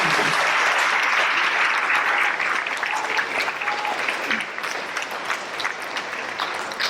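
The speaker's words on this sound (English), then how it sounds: "Can we have a round of applause for these students?" An audience at an 8th grade awards program applauds the students with sustained, even clapping that eases slightly toward the end, with no voices above it.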